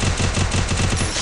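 Rapid automatic gunfire in the video game Free Fire, a dense burst of evenly spaced shots lasting about a second, loud and close with no voices.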